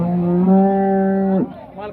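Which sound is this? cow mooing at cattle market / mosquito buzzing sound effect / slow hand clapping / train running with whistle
cow mooing at cattle market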